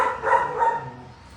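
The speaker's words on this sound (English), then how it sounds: "the dogs have plenty to say" Dogs bark at an animal clinic in Tzununa, a couple of close, mid-pitched barks in quick succession that then fade off.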